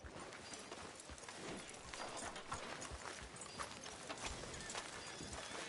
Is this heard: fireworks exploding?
no